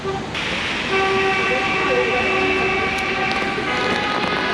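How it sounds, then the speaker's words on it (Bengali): Vehicle horns honk in a Swiss street after Switzerland's Euro Cup football win: sustained, tonal blasts overlap over a steady hum of traffic or rail noise, fairly loud and continuous. "এখন এত হর্ন বাজাচ্ছে কেন জানেন আজকে ইউরো কাপে সুইজারল্যান্ড জিতে গেছে"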